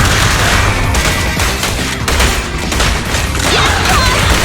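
Dense gunfire from the video game Zenless Zone Zero, rapid bursts and booming shots layered into a continuous loud barrage with crashes throughout.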